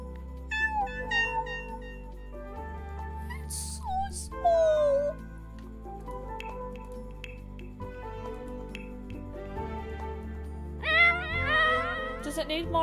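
A tiny kitten meows repeatedly in The Sims 4 video game, with short high cries coming in bursts over steady game music and background tones.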